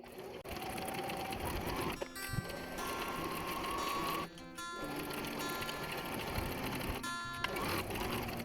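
A sewing machine runs in steady bursts, stitching stretchy fabric for a twist headband, with brief pauses between runs and small clicks of the mechanism, close and loud with no talking.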